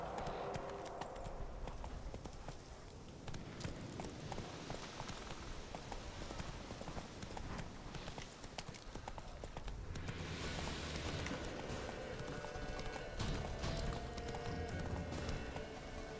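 Horse hooves clip-clopping at a trot in the video game Witcher 3, a steady rhythmic series of hoof strikes with an occasional whinny, faint and continuous under ambient game sound.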